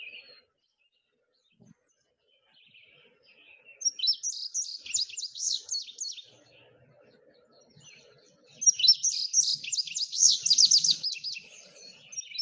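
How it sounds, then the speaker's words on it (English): Indigo bunting song in two bright, buzzy bursts of paired high notes, with a red-eyed vireo singing faintly in the background between them; fairly close and clear over a quiet outdoor backdrop. "Indigo bunting with red-eyed vireo in the background."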